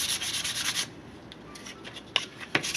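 A knife blade rubbed with sandpaper on a hard block to clean off surface crud: a quick run of raspy scraping strokes, then quieter rubbing and a couple of sharp scuffs, close up with no talk.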